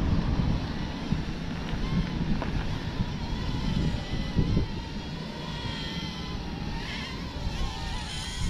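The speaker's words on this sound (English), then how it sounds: "here comes the breeze. Breezy, it's quite breezy." Outdoor breeze buffets the microphone near a cheap Voyage Aeronautics VA-2080 mini drone in flight, a steady low rumbling roar that lasts the whole stretch, with faint voices now and then.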